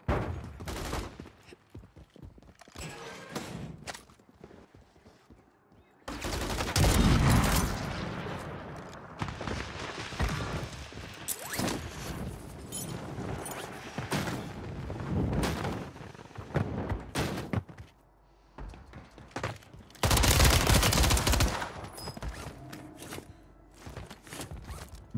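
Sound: gunfire in video game Warzone 3

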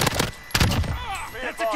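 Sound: gunfire in Call of Duty video game

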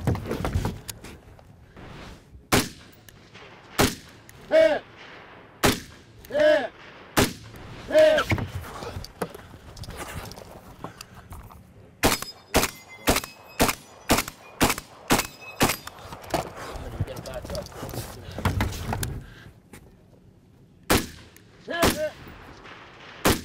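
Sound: gunfire from rifles and pistols at a shooting stage

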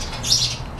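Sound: bird

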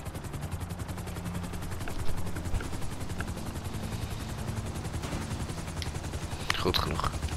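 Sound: helicopter in a video game

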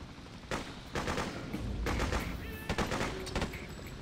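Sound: submachine gun firing in video game Freedom Fighters

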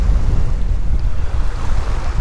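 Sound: wind at the shore while fishing

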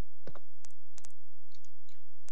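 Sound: controller button being pressed by accident

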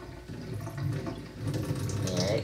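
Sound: vinegar poured out of a jar into the sink

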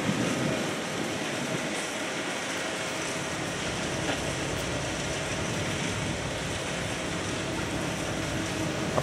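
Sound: CSX freight train passing

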